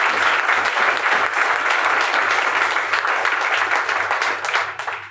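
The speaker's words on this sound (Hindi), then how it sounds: "वो भी एक बढ़िया सी तालियां डिजर्व करती हैं।" An audience at a business seminar breaks into loud, dense applause, many hands clapping together in a steady roar that holds throughout and only begins to thin at the very end.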